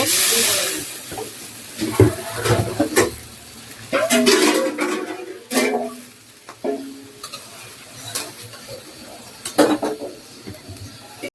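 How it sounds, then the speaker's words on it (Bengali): Fish heads dropped into a pot of lentil dal simmering in water, with scattered splashes, stirring scrapes and pot clatter over a soft bubbling hiss, close and intermittent. "তো এই যে মাছগুলো এখন দিয়ে দিব"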